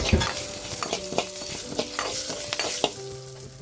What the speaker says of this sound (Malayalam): ഇനി നമുക്കിതിലേക്ക് കരിവേപ്പിലയും കൂടി ചേർത്ത് കൊടുത്ത് ഒന്ന് ഇളക്കിയെടുക്കാം